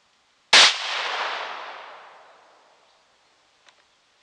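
A single sharp rifle shot from a Marlin XT-17 at a range, a loud crack followed by a long decaying echo trailing off over about two seconds, with faint clicks afterward.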